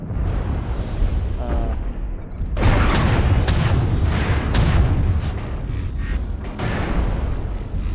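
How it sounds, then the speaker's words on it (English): Incoming missiles burst in a rapid string of booming explosions in the video game MechWarrior Online, loud and close over a continuous rumbling battle bed. "Warning, incoming missile."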